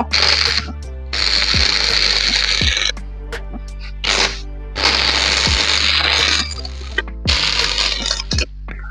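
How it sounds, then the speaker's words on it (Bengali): Welding along the bottom of a window grill being fitted at a school: bursts of harsh crackling arc noise lasting one to two seconds, separated by short pauses, loud and close with occasional sharp ticks. "আমরা এখন নিচের ঝালাই করব।"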